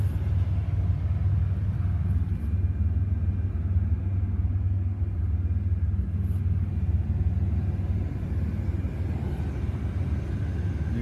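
Steady low idle rumble of a 1998 Chevrolet Monte Carlo Z34 engine, a continuous deep drone held at an even level throughout with no revving or talk.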